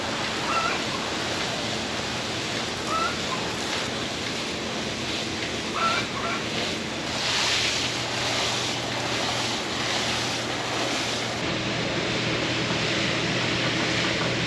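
Water sprays steadily onto plants inside a greenhouse, a continuous soft hiss with no breaks, fairly close and heard alone.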